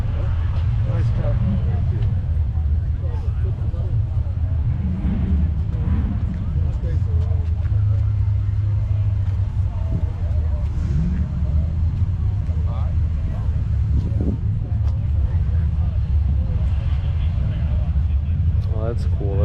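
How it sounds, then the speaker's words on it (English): A classic Chevrolet Bel Air drives by at an auto fair in Flint, Michigan, giving off a low, steady engine rumble while people nearby keep talking. "That Bel Air coming by."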